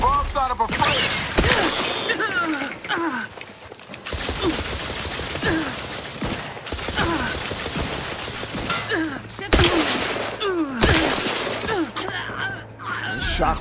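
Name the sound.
shock rifle firing in video game The Outer Worlds 2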